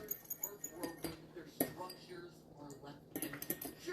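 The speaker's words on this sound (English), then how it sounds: "Let's cut butter." Butter is cut for a pie crust in a home kitchen, with a run of light metallic clinks and taps of utensils against a bowl, irregular and close.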